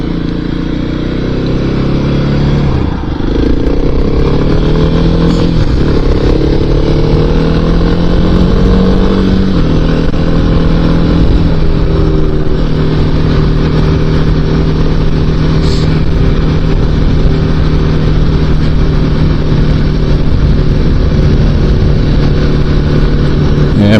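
Kawasaki KLX 300 dual-sport motorcycle cruising county roads on an evening ride, its single-cylinder engine droning loud and steady from the rider's position, with a few shifts and changes in revs, no talk.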